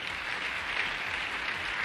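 Audience clapping at a Safeshop business network meeting, a dense, steady wash of many hands held at an even level for a couple of seconds with no voices.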